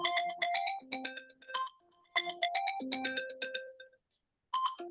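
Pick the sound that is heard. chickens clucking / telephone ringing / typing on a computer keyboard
telephone ringing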